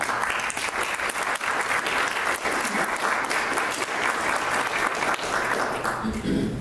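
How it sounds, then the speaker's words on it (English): A university lecture audience gives sustained applause, dense and even for several seconds before it fades out and a voice begins at the end. "I hate it when the audience starts with the applause"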